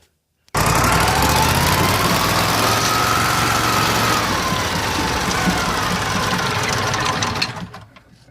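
Toro Workman 2110 utility vehicle engine running loud and steady on a test drive, a continuous rough mechanical drone with a rising whine that fades out at the end after a brief silent start.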